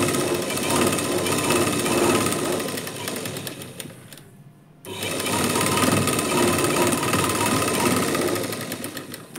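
A sewing machine stitches a lining blouse with a rapid, loud mechanical chatter, pausing briefly midway before running again at full speed.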